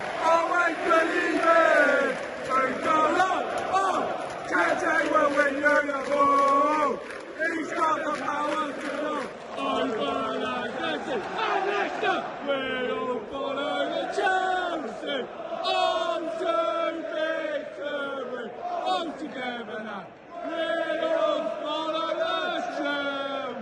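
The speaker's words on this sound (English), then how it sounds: "I wanted to share a couple of these clips from the game last night from the crowd of Jack going mental" A Chelsea football crowd at a night match chants and roars in unison, loud sustained voices rising and falling in rhythmic waves with shouts and whoops, filling the stadium throughout.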